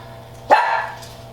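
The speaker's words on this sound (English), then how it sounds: "that's my dog's barking" A single sharp dog bark rings out nearby, short and loud, against a quiet background.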